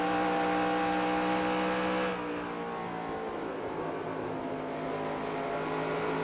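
A NASCAR race car engine in NASCAR Racing 2003 at Charlotte drones at a steady high-revving pitch, then drops to a lower, rougher tone partway through, loud and continuous with no talk.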